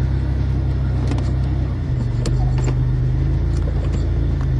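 A 1992 Buick Regal drives off, its engine giving a steady, close low rumble that shifts slightly in pitch as the car pulls away, with no talking.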